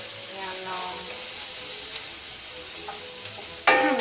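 Bacon, onions and a little red pepper fry in a pan with a dense, continuous close sizzle and hiss, and a sharp clatter of a utensil near the end.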